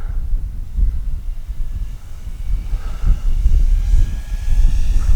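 An HSDJETS Cessna 182 RC model plane makes a slow pass with landing flaps down, its electric motor droning steadily beneath gusty wind rumble.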